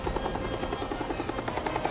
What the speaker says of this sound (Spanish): ¡Hay que rastrear el helicóptero que se acaba de ir!